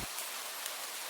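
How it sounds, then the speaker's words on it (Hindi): Steady rain falls in a village during a heavy rainy season, a dense even hiss throughout with no pauses or voices. "इस वर्ष तो बहुत बारिश हो रही है"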